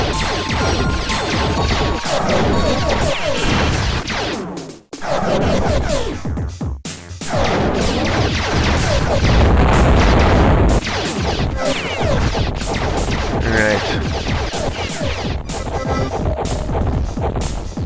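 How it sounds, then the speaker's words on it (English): A heavy destroyer ship is blown up in the space strategy game Ares, with dense, continuous crashing explosions and weapons fire filling the scene, a brief dropout midway, then sustained loud battle noise. "Okay, we destroyed the heavy destroyer"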